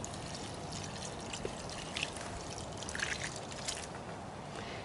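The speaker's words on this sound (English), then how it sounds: "add a whole bunch of water to that" Water is poured into a garden pot, a soft continuous trickling stream that stays fairly faint and even, with a few brighter splashy moments, no voices.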